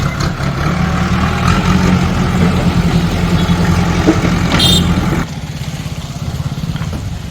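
A tractor engine chugs and idles loudly and close, a steady low rumble that drops to a quieter, lighter running beat near the end, with a brief high whine partway through.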